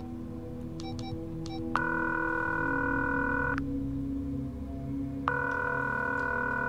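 A phone call being dialed in the horror game The Coma 2: a few quick high keypad beeps, then a steady electronic ringing tone that stops, pauses and sounds again, over a low background hum.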